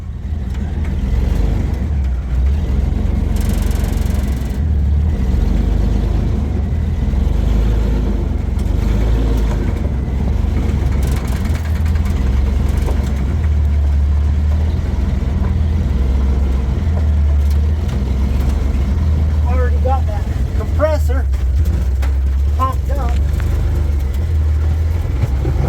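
A Willys jeep engine idles steadily and loudly close by in a snowy outdoor setting, a constant low rumble with a faint rise in revs and some light clanking near the end.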